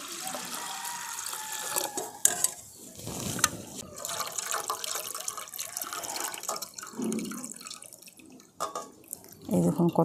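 Mung lentils are swished and rinsed in water to wash off husks, giving close splashing, dripping and sloshing with small clinks of grains and a vessel throughout, ending in a few louder pours.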